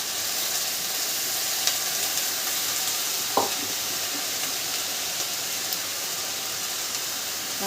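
Fenugreek leaf stir-fry (methi bhaji) being stirred in a pan, a steady broadband sizzle and hiss running throughout, with a couple of brief scraping knocks from the stirring utensil, no voices.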